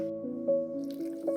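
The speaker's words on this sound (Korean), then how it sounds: "사이다를 부어주세요." Cider soda being poured over washed aged kimchi in a container, a short close squishy, bubbling pour with a faint fizzing tone.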